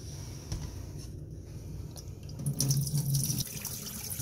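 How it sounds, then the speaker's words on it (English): Water being poured out of a stainless steel cat water fountain into a sink, a trickling splash that grows into a louder gush near the end, close and without talk. "I'm going to dump out the water."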